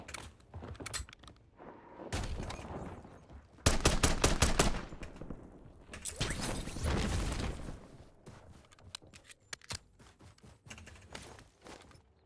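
Gunfire in Call of Duty: Warzone in Verdansk: several separate bursts of rapid automatic shots, some close and loud and others thinner, broken by quieter gaps with faint clicks, and no talk.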